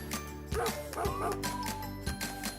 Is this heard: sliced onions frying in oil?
no